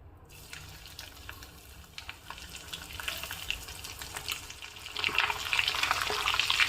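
Ginger garlic paste frying in hot oil for a chicken pickle, a steady close sizzle with occasional stirring scrapes and splatters that grows louder and crackles more sharply toward the end.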